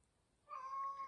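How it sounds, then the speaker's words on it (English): An indoor house cat lets out a single steady, sustained meow that starts suddenly and holds a level pitch, quiet but close, with no voices. "That's my cat"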